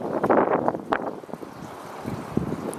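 Gusty wind buffets a handheld camera microphone outdoors, a loud continuous rumble with bursts and swells throughout, no voices.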